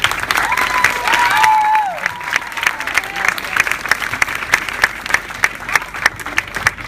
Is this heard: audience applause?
yes